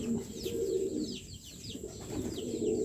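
Racing pigeons at a loft coo in soft repeated calls with a few chirps, close and moderately quiet, with no talk over them.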